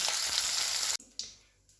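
Potatoes deep-frying in oil in a pan give a dense, loud sizzle that cuts off abruptly, followed by quieter intermittent crackles.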